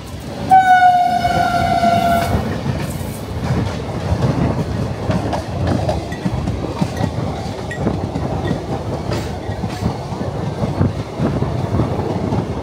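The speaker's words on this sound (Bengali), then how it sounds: "এটা কিন্তু হচ্ছে এক্সপ্রেস ট্রেন" A long horn blast opens, then an express train on the Howrah to Jagdalpur line rumbles on with steady clickety-clack of wheels over rail joints, loud and close throughout with no voices.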